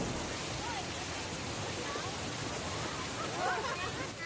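The Huai Luang waterfall in Ubon Ratchathani, Thailand, roars as a constant broadband rush, close and loud throughout. Faint voices are briefly audible beneath the water noise.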